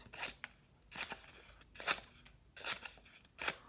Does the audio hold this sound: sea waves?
no